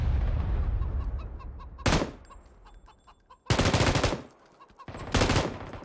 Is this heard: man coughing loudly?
no